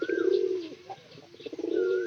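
Pet pigeons coo in low, rolling bursts, close and fairly loud, with a few faint chirps between the coos and no voices.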